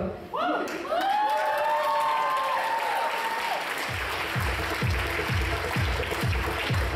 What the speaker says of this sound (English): Once again, have a tremendous round of applause out here for Prashanti and Venu.